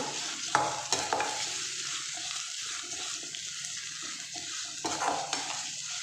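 Paneer fries in a pan for a pepper dry dish, giving a continuous sizzling hiss with occasional spatula scrapes and knocks against the pan; close, even in level, with no speech.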